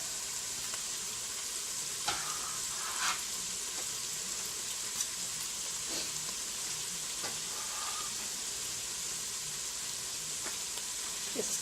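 Peppers and onions sizzle steadily in a pan, a constant bright crackle with occasional stirring clicks and scrapes, close and alone without talk.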